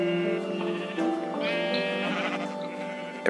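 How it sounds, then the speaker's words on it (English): Minecraft sheep from the Tekkit modpack bleat in close succession, several wavering baas overlapping over a few seconds, fairly loud and near, with no talking. "There's seriously like 30 fucking sheep here."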